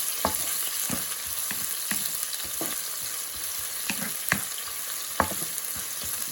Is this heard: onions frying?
yes